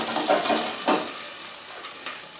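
Beef searing in a pot for a stew, a steady sizzle of frying with a couple of brief scraping stirs from a wooden spoon.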